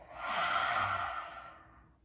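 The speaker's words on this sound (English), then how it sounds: "Exhale, huge release." A deep, drawn-out exhale released through an open mouth with the tongue out during a gentle yoga flow, a single breathy rush that swells and slowly fades over about two seconds, close and alone.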